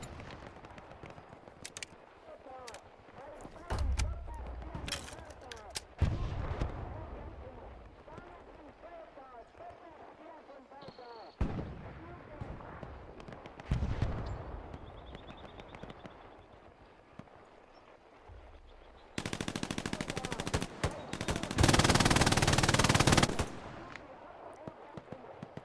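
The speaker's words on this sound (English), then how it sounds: "MG42 action." MG42 machine gun fire in the World War II shooter game Hell Let Loose, with scattered bursts and cracks mixed among other battle noise and a long, dense sustained burst near the end, while players talk over the action.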